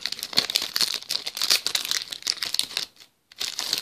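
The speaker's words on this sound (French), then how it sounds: "Booster complètement déchiqueté." Plastic wrapping of a Pokémon card booster pack crinkles and tears in rapid bursts of crackling rustle, close and busy, with a brief pause near the end before more tearing.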